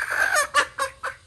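A hen gives a run of close, loud clucks, one drawn-out call followed by three or four short, evenly spaced bursts.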